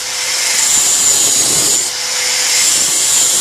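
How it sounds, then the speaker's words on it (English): A grinder fitted with big 80 grit sandpaper grinding a homemade harpoon tip into a cone, a loud, steady, close whirring abrasive hiss with one brief dip, no speech. "Now I'm going to use a grinder with sandpaper 80, big one."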